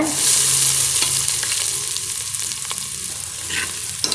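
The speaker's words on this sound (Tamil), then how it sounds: "எண்ணெய் நல்லா காஞ்சிடுச்சிங்க இப்போ நம்ம சோம்பு சேர்த்துடலாம் இப்போ நாம் இதில் வெங்காயத்தையும் சேர்த்துடலாங்க" Onions sizzle in hot oil with fennel seeds in a pan, a loud steady frying hiss with occasional stirring scrapes, close by and without talk.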